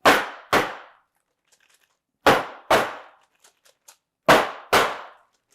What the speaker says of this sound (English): It says to bang the pan to